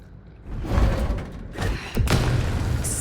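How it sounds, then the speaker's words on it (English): A grenade explodes in a first-person video game, giving a couple of heavy booming thuds with a whooshing tail, loud and close, with no voices over it. "Oh, that's a grenade."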